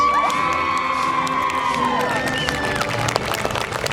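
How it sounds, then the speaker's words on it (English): Audience cheering and applause at a high school senior awards ceremony, a steady crowd roar with whoops and claps sustained throughout, loud and fairly close. "You can applaud, that's fine."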